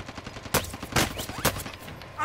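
Gunfire in Call of Duty Warzone: three sharp, loud shots about half a second apart, over a busy game backdrop.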